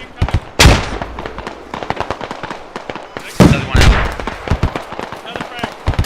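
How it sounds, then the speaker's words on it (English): A grenade blast amid a firefight, with loud sharp gunfire bursts and heavy impacts scattered throughout, two especially strong booms standing out, under shouted voices. "Grenade!"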